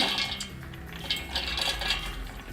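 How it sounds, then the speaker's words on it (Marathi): Soaked chana dal is tipped into a mixer jar with soft clinks and scraping of a spoon against metal. The handling is quiet and close, with a few brief taps. "हे आता आपण मिक्सरमध्ये घालूया डाळ घालूया आधी"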